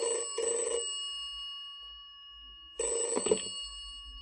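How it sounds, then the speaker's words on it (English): A telephone bell rings close and clear in two separate bursts with a pause between them, with no talking over it. "A phone call."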